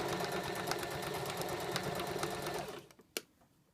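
A sewing machine stitches a shirt collar with a fast, steady mechanical whir for nearly three seconds before stopping abruptly, followed by a single sharp click in the quiet.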